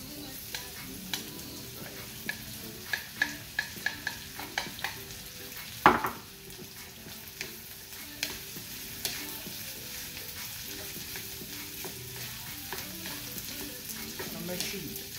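Jasmine rice for spicy Thai basil fried rice stir-fries in a hot pan with a steady sizzle, while a utensil scrapes and taps the pan in a quick series of clicks, close up, with no talk.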